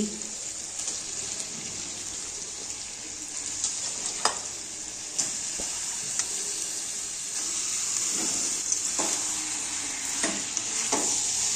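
Chicken pieces with chopped capsicum being stirred into spice masala in a hot pan for korma, giving a continuous bright sizzle with intermittent spatula scrapes and clicks.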